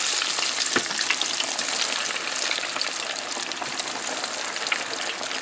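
Coconut-coated shrimp frying in a pan, a steady, close hiss of hot oil with fine crackles and pops running continuously.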